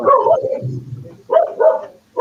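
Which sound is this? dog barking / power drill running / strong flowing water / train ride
dog barking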